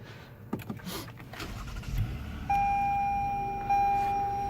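A 2018 Toyota Camry XSE V6 being started, heard from inside the cabin: rustling and a brief engine turnover, then a steady idle hum joined by a sustained electronic chime tone.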